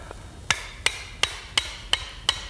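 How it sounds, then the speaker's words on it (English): Hammer striking the end of an axe handle: six sharp, evenly spaced metallic knocks in a steady rhythm, close and clear with no talking. "So you first of all take the hammer, you hit the end like that"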